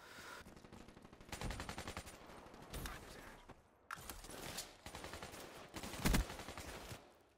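AK74-U gunfire in a shooter game, several bursts of rapid automatic shots in quick rhythmic rattles separated by short pauses, with mechanical clicks in between.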